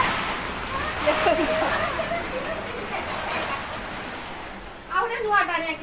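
Heavy rain falls in a steady, broad wash of hiss and splatter, close and continuous, with someone talking over it near the end.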